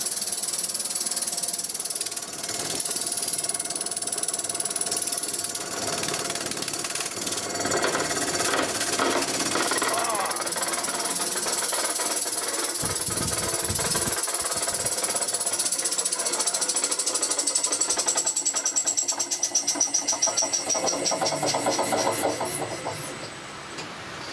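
An electric motor driven by an Invertek variable frequency drive, rated for 5 amps and running up to 100 Hz, gives a steady mechanical whine and hum with rattly rhythmic texture, loud and continuous throughout without any talking.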